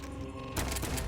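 Rapid gunfire from the mobile shooter game Zombie Fire 3D during a boss fight, a dense continuous burst that gets sharper and louder halfway through, with no talking.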